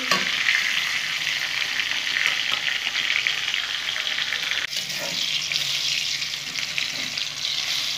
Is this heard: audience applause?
no